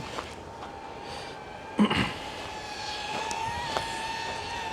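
A DJI Avata 360 drone flies nearby with a steady, fairly faint whirring hum and shifting tonal whine, briefly punctuated by a short thump partway through.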